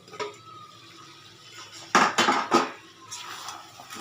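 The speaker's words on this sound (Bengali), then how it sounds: "ঢাকনাটা তুলে নেব।" A metal lid is lifted off a pot of chicken kosha with a few close clinks and clatters, a sharp burst of metallic knocks in the middle and lighter taps after.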